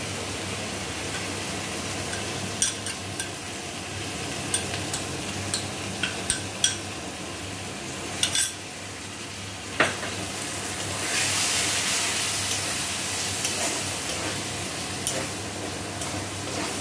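A water-mixed ground spice blend fried and stirred with tomato and onion for achari bhindi: a low steady sizzle punctuated by scattered clinks and scrapes of a utensil, growing louder and hissier toward the end.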